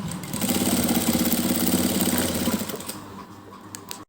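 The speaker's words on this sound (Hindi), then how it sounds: "अपने अकॉर्डिंग इस तरह से रखते हुए हम इस पर सिलाई लगा देंगे।" A sewing machine stitches a fabric patti onto a trouser in a fast, steady mechanical whir that runs for about two and a half seconds. It then slows and stops, leaving faint handling noises nearby.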